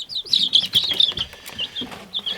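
Young chickens cluck and chirp close by in a short burst of busy, overlapping high-pitched calls, fairly quiet and with no talking.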